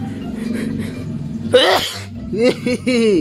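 A single loud sneeze bursts out over a low background hum, followed by a voice speaking.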